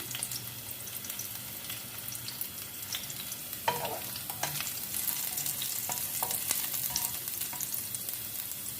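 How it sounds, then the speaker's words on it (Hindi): Garlic and green chillies fry in hot oil, a soft steady sizzle broken by scattered pops and the scrape of stirring, fairly quiet and close. "हमने एक लहसुन ले लिया और हरी मिर्चें, वो इसमें हम डाल लेंगे और इसको हम फ्राई कर लेंगे।"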